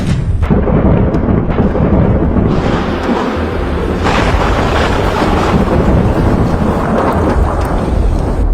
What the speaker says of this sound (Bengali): 6 নাম্বার দিনটি শুরু হলো আমাদের ভয়ানক বজ্রপাত এবং রিমিঝিমি বৃষ্টির মধ্য দিয়ে